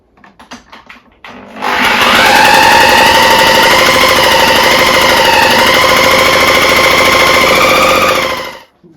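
A Solex moped engine fails to start, giving a loud, rough mechanical drone that holds for about seven seconds before cutting out, with a few softer knocks just before it.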